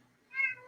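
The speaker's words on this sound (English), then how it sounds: "Meow. Meow. Meow. Hi. Kitty." A single cat meows once, a short, clear, fairly loud call rising and fading over under a second, with no talking over it.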